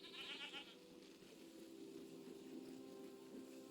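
Goats bleat faintly at a distance, giving a short wavering cry followed by a longer drawn-out call over quiet background hiss.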